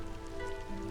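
Light drizzle falls in the colony-building game Against the Storm, a soft continuous patter of raindrops over a low steady hum.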